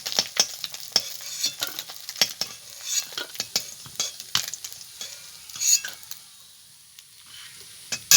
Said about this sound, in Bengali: মাছটা ভাজা হয়ে গেছে, দেখুন আমি তুলে নিচ্ছি।